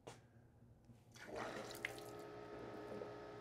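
Water is turned back on through a pressure vacuum breaker on a plumbing cross-connection assembly: a click, then a steady rushing hiss of flowing water that builds quickly and continues evenly.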